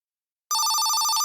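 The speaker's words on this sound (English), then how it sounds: "satellite phone started ringing" A satellite phone suddenly starts ringing after a moment of silence, a loud, bright electronic trill that continues steadily.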